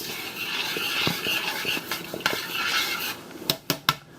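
A spoon works chili powder into a big pot of steak chili, scraping and clinking against the metal in an uneven rhythm, with a few sharp clanks near the end.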